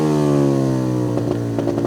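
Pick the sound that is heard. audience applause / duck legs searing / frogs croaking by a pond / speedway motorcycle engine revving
speedway motorcycle engine revving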